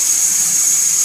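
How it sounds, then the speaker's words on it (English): Shower water runs steadily while a dog named Sparky is bathed, a loud, even hiss of spraying water close by, with no talking. "Just let Sparky take a shower and taking a video."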